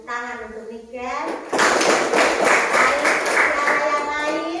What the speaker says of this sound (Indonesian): berikan tepuk tangan untuk Niken.